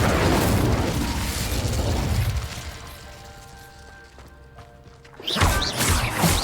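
A fiery Incendio spell blast in Hogwarts Legacy erupts as a loud, roaring burst that slowly fades, then a second sharp blast hits near the end.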